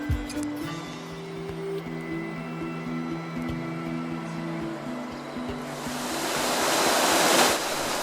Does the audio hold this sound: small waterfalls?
yes